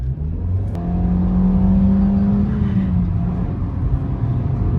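Maruti Baleno car accelerating hard at full throttle, a steady loud engine drone with a rising whir and road rumble throughout, no talking.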